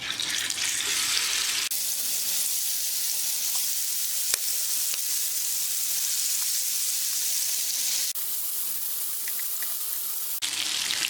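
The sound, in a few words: chicken frying in oil in a pan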